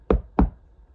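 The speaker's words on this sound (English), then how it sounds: "A knock at the door." Two sharp, close knocks on a wooden door in quick succession, followed by quiet.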